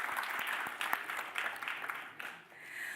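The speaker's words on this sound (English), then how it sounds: "Can we just give the panelists one more round of applause as they take their seats?" A conference audience at an Africa Week session gives panelists a round of applause, a dense, bright wash of many hands clapping throughout that softens briefly before swelling again.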